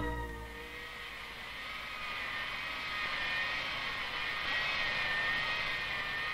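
A large jet airliner's engine roars steadily at an airport, a broad rushing drone with a high whine that swells gradually louder over several seconds, heard without talk.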